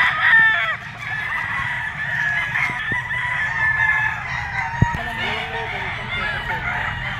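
Roosters crow repeatedly at a game fowl farm, several birds near and far overlapping in a steady chorus over a low background hum, with a sharp knock partway through.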